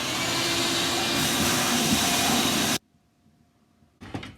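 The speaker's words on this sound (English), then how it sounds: "And then try the vacuum cleaner on the hole." A vacuum cleaner sucks debris from the hole in an upturned Cat 60 cylinder head on a workbench, a loud steady roar for under three seconds that cuts off abruptly, then a brief rough burst after a short quiet gap.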